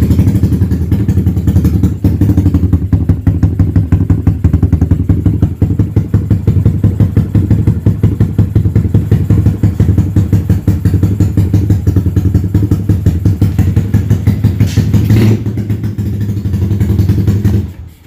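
A motorcycle engine runs loud and close at night at a mobile workshop, with a fast, even throbbing beat that holds steady for most of the stretch before cutting off abruptly at the end, with no talking.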